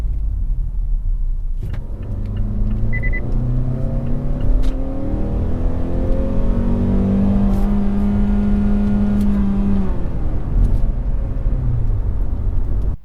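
A 2018 Mazda CX-5 compact SUV engine holds a steady drone at about 3,000 RPM after an upshift, a continuous loud hum with a rising then level tone over road rumble throughout.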